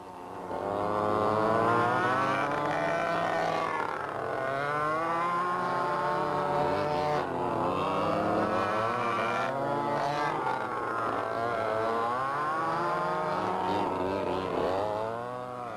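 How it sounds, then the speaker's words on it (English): A muffled high-RPM two-stroke engine powers a chain-driven model car, its buzzing note rising and falling in repeated revving sweeps, loud and continuous. "The chain-driven cars are powered with a high RPM 2-stroke engine that, when muffled, reproduces realistic engine sounds."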